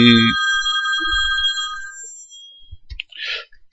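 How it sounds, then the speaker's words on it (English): Telephone ringing with bright, sustained electronic tones lasting a couple of seconds, following a brief voice, then a few clicks and a short burst of speech-like sound at the end. "sorry, the phone is ringing."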